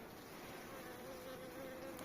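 A quiet, steady insect buzz hums throughout, like bees droning nearby, with no voices.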